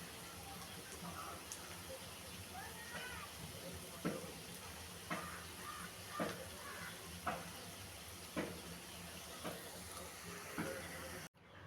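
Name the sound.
cabbage pakoras deep-frying in oil until red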